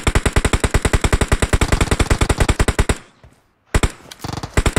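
Rapid automatic M4 rifle fire in a shooting video game, a loud, even stream of shots for about three seconds, a brief silence, then more bursts.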